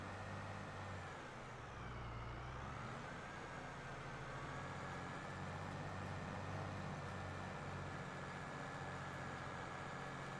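A virtual tractor engine in Farming Simulator drives through a neighbour's grass field, a steady, loud low drone with a faint whine that dips briefly and then holds.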